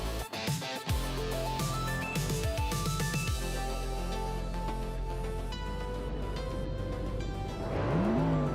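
Engines of retro supercars roaring off the line at Baikoniki Oval in a racing video game, loud and continuous with rising revs, layered tonal engine whines and a swelling rush near the end, no talking.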